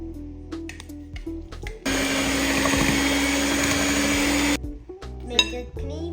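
A steady, loud electric whir runs for about three seconds as milk cake batter with vanilla essence is mixed, starting and stopping abruptly, with quieter clinks and handling noises before and after.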